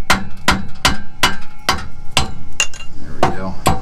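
A hammer strikes metal repeatedly to knock loose a catalytic converter on a 2001 Ford F150, about nine sharp, close, ringing blows in a steady rhythm.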